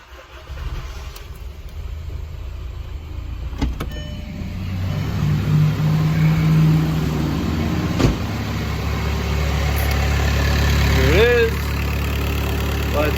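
An old beater car being started on a cold day: a brief crank, then the engine catches and settles into a steady low idle that grows a little louder, with someone talking over it.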